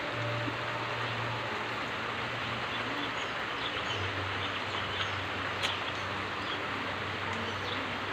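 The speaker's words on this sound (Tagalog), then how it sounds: "ang lakas ng ulan" Heavy storm rain falls as a steady, soft wash of drops, moderately faint and continuous, with a low hum underneath and occasional faint chirps.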